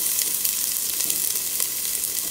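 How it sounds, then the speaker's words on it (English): Red onion sizzles steadily in a hot pan after garlic has been fried, a dense crackling hiss that stays even and close throughout, with no voices. "At pagkaluto ng bawang, isusunod na natin yung sibuyas."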